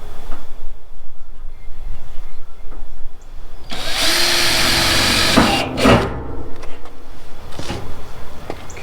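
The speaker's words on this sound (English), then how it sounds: "So I'll go ahead and pre-drill the metal, since it's hard to get the wood screws through the metal." A power drill pre-drills through metal on a homemade barrel train ride, a loud whining burst lasting a couple of seconds that rises and then cuts out amid workshop clatter and handling noise.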